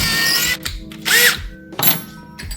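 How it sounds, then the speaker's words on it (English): A power drill boring pilot holes into a wooden wall stud, with three short whining bursts of the motor revving up and winding down, close and loud. "So I'm going to drill my pilot holes and get a couple more 3-inch screws."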